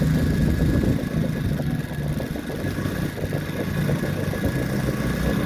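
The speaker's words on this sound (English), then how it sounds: "You're supposed to break in the engine for the first few hours." A cheap $159 Chinese knockoff electric-style outboard motor for a paddleboard or kayak runs slowly at the beach during break-in, a steady close low hum and buzz with slight vibration, no talking.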